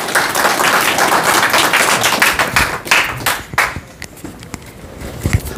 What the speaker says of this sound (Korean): 우리 한번 박수, 격려의 박수 한번 부탁드리겠습니다